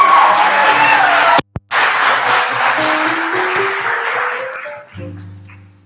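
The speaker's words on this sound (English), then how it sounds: "Everybody give a round of applause for Isaac Padilla." An audience applauds a student speaker at a spring talk event, a loud dense burst of clapping that fills the room, briefly cuts out, then gradually fades while an electronic tone rises underneath before settling into a steady hum.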